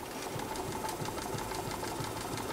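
A walking foot sewing machine stitches through leather in a steady, rapid mechanical chatter of needle strokes, loud and close, running continuously with no talking.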